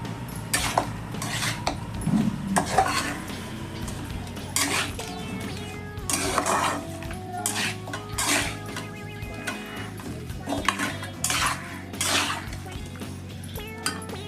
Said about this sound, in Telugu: అల్లం వెల్లుల్లి పేస్ట్ అన్నీ వేసుకొని బాగా కలిసేలాగా మిక్స్ చేసుకోవాలి.